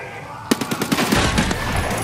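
A rapid burst of close automatic gunfire in Escape from Tarkov: sharp, evenly spaced shots about a tenth of a second apart, followed by a ringing wash of echo.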